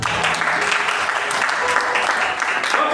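A church congregation breaks into loud, dense applause that fills the space, with many hands clapping at once and crowd noise mixed in. The sustained clapping holds steady throughout without easing off.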